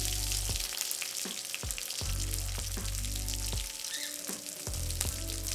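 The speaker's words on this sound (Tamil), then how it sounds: "கருவேப்பிலை இவ்வளோத்தையும் போட்டு வதக்கணும்." Garlic, green chili and curry leaves sauté in oil in a pan with a steady close sizzle, punctuated by repeated spatula scrapes and taps against the pan.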